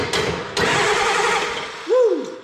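A 1969 Ford F250 diesel engine cranking over, with two loud bursts of starter churning followed by a sustained rough mechanical roar and a brief rising whine near the end.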